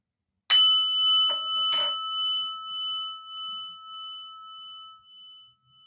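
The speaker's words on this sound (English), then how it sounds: "and listen to the bell" A meditation bell is struck once and then rings on, a clear sustained tone slowly fading over several seconds, with a couple of soft clinks near the start in a quiet room.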